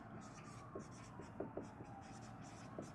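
Chalk or marker writing on a board makes faint, intermittent scratches and taps over a quiet room hiss, with no talk.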